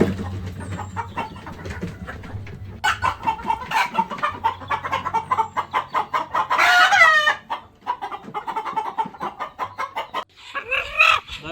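Colour bird chickens on a poultry farm in Dinajpur cluck constantly and loudly up close, with a rooster crowing clearly midway through the busy flock noise.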